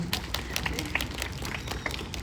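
A small audience at an author's book talk in Wanju applauds, the quiet clapping dense and continuous throughout.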